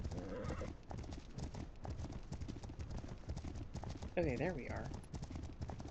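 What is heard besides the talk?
wild horses running into camp, video game The Legend of Khiimori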